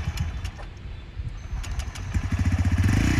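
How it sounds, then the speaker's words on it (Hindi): A TVS Raider 125 motorcycle engine starts up and settles into a steady, rhythmic idle, its low throbbing growing louder and more regular toward the end, with no talking. "अगर बाइक चालू है ठीक है, मैंने इसको चालू कर रहा हूँ"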